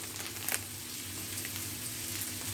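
Free-range egg noodles stir frying in a pan, a faint steady sizzle with soft crackles and no voices.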